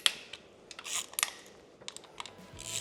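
Small mechanical clicks and taps from a motorcycle clutch assembly being worked on during a custom bike build, several sharp close clicks spaced irregularly over quiet background.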